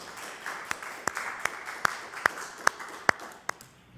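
At a Madison, New Jersey borough council meeting in November 2021, sharp claps sound in a slow, even rhythm, roughly two or three per second, over a quiet room.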